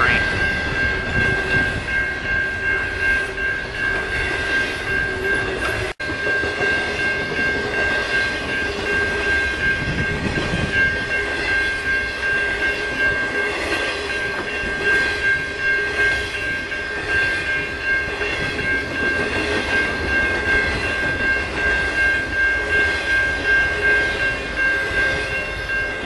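A long Union Pacific freight train rolls past steadily and loudly, wheels rumbling with a sustained tonal whine running throughout.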